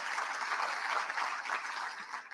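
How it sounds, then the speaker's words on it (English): An audience at a county State of the County Address claps in a short burst of applause, a dense, even patter of many hands with no talking. "let's just give them a warm welcome and round of applause"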